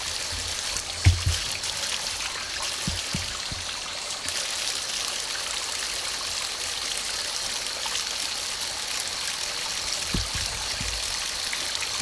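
Fresh mountain water trickles and flows along a forest trail at the Asa Wright Nature Centre, a steady soft rushing wash with a few louder close knocks and splashes, no talking.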